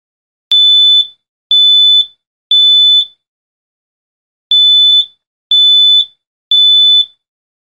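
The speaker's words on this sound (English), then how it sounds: "The sound pattern for smoke detection is a series of three" A First Alert/BRK smoke detector sounds loud, piercing alarm beeps in two groups of three, each beep about half a second long, with a short silent pause between the groups.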